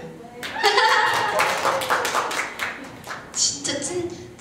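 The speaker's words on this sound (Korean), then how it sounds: "그 이거 박수 쳐줘요" Audience clapping at a Korean lounge music performance, rising over scattered talk and light laughter, fading then swelling again briefly near the end.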